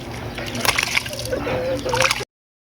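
Water poured over grated coconut to make coconut milk, a short sloshing and splashing pour with gurgling underneath, fairly close and steady for about two seconds.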